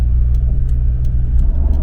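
A Honda Civic EJ coupe engine with a slipping clutch gives a close, steady low rumble that swells and dips slightly, with no voices over it.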